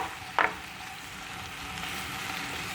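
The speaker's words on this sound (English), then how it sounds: "Frying medium to high heats." Sliced chicken and mushrooms frying in garlic-infused oil at medium-high heat, a steady broad sizzle that holds evenly throughout, with one brief clink of a utensil near the start and no voices.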